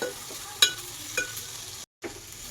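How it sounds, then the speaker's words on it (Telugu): Boiled elephant foot yam pieces are turned in a frying pan, giving a soft sizzle with a few quick scraping stirs and a brief pause near the end. "ముందుగా ఉడకబెట్టుకున్న కంద ముక్కలు ఇందులో వేసేసుకోవాలి వేసుకొని బాగా తిప్పాలి"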